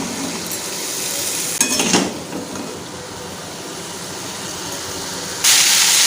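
Pumpkin and potato pieces sautéed in a pan with a little water, giving a steady hiss and sizzle, with a brief burst of scraping and stirring and a louder spurt of steam near the end.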